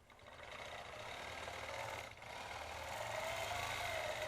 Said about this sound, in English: she's coming in using that stitch regulator at 12 stitches per inch and following that chalk line